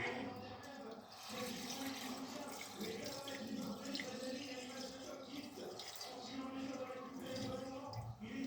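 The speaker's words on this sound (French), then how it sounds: "on va le recouvrir d'eau" Water pours steadily into a pan to cover a piece of fish, a continuous rushing and splashing close by for the whole stretch, with no other sound standing out.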